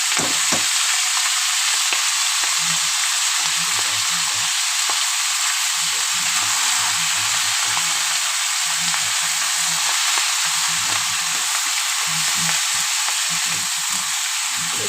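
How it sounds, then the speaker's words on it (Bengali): Leafy greens sizzle steadily in a pan with an already fried fish head, a continuous loud frying hiss with occasional stirring scrapes and no talking. "চলো বন্ধুরা, আমার মাছের মাথা বেশ ভালো করে ভাজা হয়ে গেছে। আর এখন আমি শাকটা দিয়ে দিলাম।"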